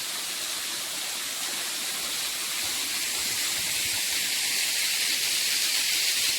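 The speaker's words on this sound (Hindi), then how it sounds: "देखिए झरना बह रहा है" A waterfall in a forested valley, Devangana valley near Chitrakoot in Uttar Pradesh, pours with a steady, dense rushing hiss. The sound stays even and close throughout, with no voices.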